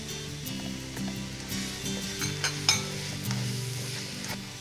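Tomato joins softened onions in a hot pan, a steady sizzle with a spoon stirring and clinking against the metal, close and fairly quiet.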